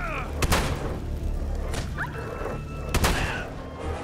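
Gunfire in the Fallout 4 video game: a few sharp, loud shots cracking out amid a busy, noisy game soundscape with thuds and crashes.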